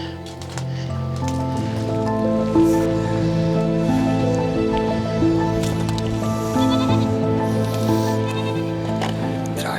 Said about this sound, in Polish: W takich miejscach tutaj kozy kempują.